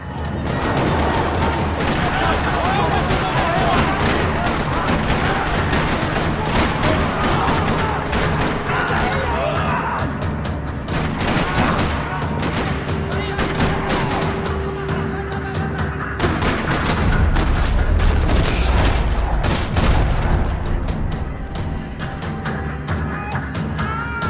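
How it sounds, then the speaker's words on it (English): Sustained rapid gunfire in a parking lot in the video game Max Payne 3 rattles nonstop, with bursts of automatic fire and heavy booms layered over a dense, loud battle din. "Another parking lot rattling with gunfire"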